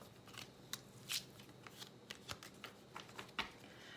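Paper number cards are picked up and slid away across a table, a series of quiet papery swishes and soft taps in an otherwise calm room.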